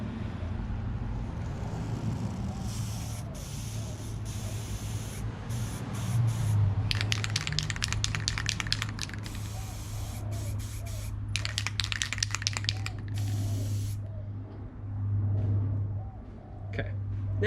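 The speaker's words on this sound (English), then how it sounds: "now it's spraying a bit better" An aerosol can of spray paint hisses in several long bursts while a handbrake from a Logitech G920 wheel is resprayed, close and steady over a low constant hum.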